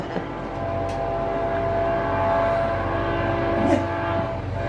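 Steady rumbling train noise rolls past a motel nearby, with faint squeals and a brief higher whine near the end, no voices.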